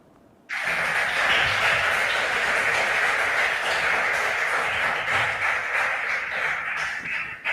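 An audience at a regional school quiz contest claps for the contestants, a dense, sustained burst of applause that starts abruptly and continues evenly for several seconds.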